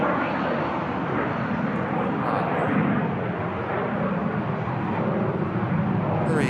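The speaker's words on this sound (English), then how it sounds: "French registered Hawker. Steep climbs, very steep climb." A French-registered Hawker business jet roaring on takeoff into a very steep climb at an airport, a loud, continuous, broadband engine rush holding steady throughout.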